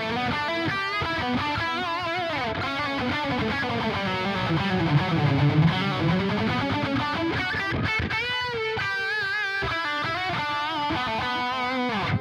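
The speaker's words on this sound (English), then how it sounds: "I'm using the matched cab, which I think for lead guitar sounds pretty awesome" Distorted electric lead guitar through a JST ToneForge Jeff Loomis amp plugin with matched cab, cloud reverb and dotted-eighth delay, playing sustained melodic metal lines with long echoing tails at steady, loud level throughout.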